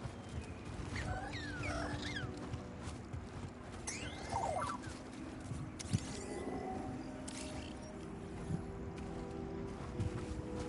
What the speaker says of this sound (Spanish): Escuché un monstruo, fue eso, un rugido.